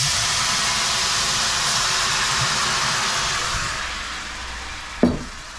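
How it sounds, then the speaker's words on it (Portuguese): White wine poured into a hot frying pan to deglaze chicken thighs sets off a loud, broad steam hiss that fades gradually, ending with a brief knock near the end. "Agora a gente vai deglaciar com um pouco de vinho"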